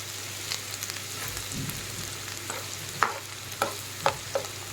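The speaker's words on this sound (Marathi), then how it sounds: "आता आपण हा कांदा टाकून घेणार आहे छान कांदा एकदम आपण सोनेरी कलरवर एकदम मस्त परतून घेणार आहेत" Finely chopped onion fries in oil in a pan, giving a soft, steady sizzle broken by several distinct clattering stirs toward the end, close and fairly quiet.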